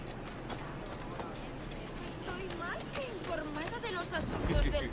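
Horse hooves clip-clop steadily in the video game Assassin's Creed IV, set in a busy street scene amid crowd chatter and babble, with people talking over the game sounds.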